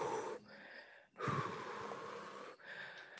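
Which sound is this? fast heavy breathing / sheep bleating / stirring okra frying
fast heavy breathing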